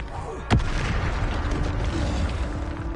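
A single loud burst of a Bombarda spell explosion in Hogwarts Legacy, a sharp boom followed by rumbling decay, with a voice speaking through it.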